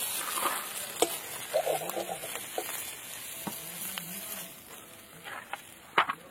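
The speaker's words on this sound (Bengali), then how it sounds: "কেটে রাখা আলু আর ফুলকপি ভেজে নেব" Cut potatoes and cauliflower fry in a pan with salt and turmeric, giving a quiet, steady sizzle broken by sharp scraping clicks of stirring at irregular intervals.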